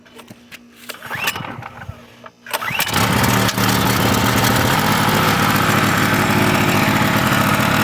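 A used, worn Champion portable generator with a JB Weld–repaired head is pull-started after a few rough attempts, then catches and settles into a loud, steady, close running drone with no talking.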